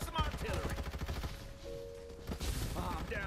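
Rapid bursts of gunfire and heavy artillery-style blasts in the battle game Farlight 84, loud and dense, with a short tonal beep midway and faint voices mixed in.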